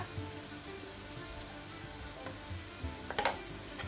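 Sliced onions softening in oil with a spoon of ghee added fry with a continuous soft sizzle, close by, and a brief louder crackling flare near the end.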